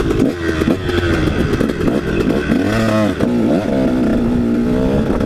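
A KTM 150 dirt bike, muddy after a crash, restarts and revs in loud rising and falling bursts, the two-stroke engine close by and continuous throughout.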